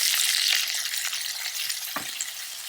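Mustard seeds, dried red chillies, curry leaves, garlic and onion crackle and sizzle in hot oil for a Kerala thoran, a steady close hiss broken by a sharp pop or spoon scrape near the end.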